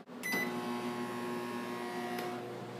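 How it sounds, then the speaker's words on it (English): A steady electrical hum with a low drone runs throughout, starting after a brief click, as a microwave oven cooks cookie dough at close range, with no talking. "Now we're going to cook the cookie dough in the microwave for about 40 to 60 seconds"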